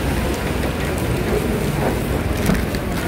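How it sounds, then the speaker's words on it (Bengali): Heavy rain falling outside a moving car, a steady dense patter and rumble heard from inside the vehicle, with no talking. "বাট বাইরে কিরম বৃষ্টিটা পড়ছে দেখো।"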